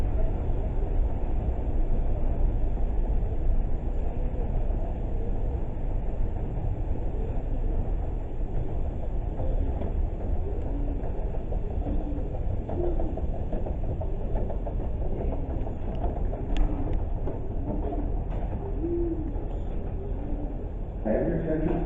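Steady rumble inside a moving train car, with continuous engine and track noise and faint voices mixed in throughout.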